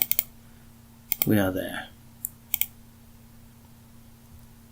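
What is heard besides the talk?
mouse double-clicking on a computer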